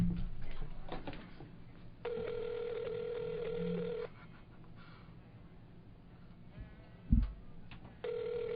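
A telephone call rings through to an office extension, with two long ringback tones separated by a pause and a third starting at the end, heard faintly over a low room murmur.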